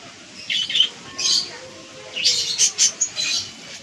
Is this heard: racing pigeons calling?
yes